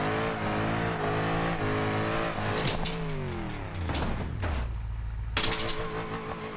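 A simulated car drifts with the wheel at full steering lock in BeamNG Drive, its engine note climbing and dropping in harmonic sweeps with sharp bursts of tire noise between revs, steady and fairly loud.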